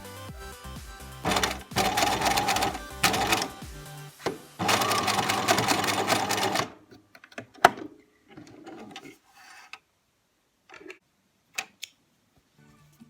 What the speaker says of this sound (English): So I'm going to sew it just here, just a little bit of a stitch, straight stitch, backwards and forwards, just to secure it.